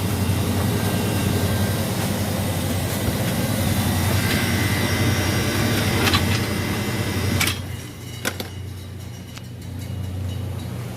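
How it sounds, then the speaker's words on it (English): An HVAC air conditioner compressor kicks on and runs with a steady low mechanical drone and hum, nearby and continuous, with a few clicks and rattles as it settles. "There's our compressor turning on."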